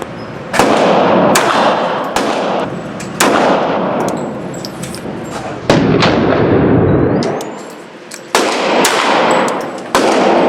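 Gunshots are fired at a target, about ten sharp, loud reports at uneven intervals of one to two seconds. Each shot rings out with a decaying tail, and there are a few longer pauses between groups.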